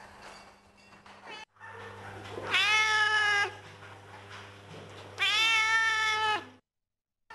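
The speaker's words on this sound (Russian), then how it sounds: "Даже по внешним признакам работникам зоопарка стало понятно, что перед ними степная кошка." A steppe cat at a zoo lets out two long, drawn-out meows, close and clear, separated by a pause. A low steady hum runs underneath.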